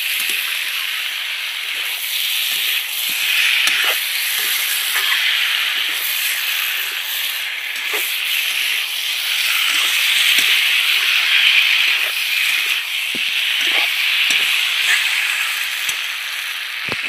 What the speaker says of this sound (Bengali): ভেজে রাখা পটল আলু ডিম দিয়ে দিচ্ছি একসাথে। সব একসাথে একটু কষিয়ে নেব।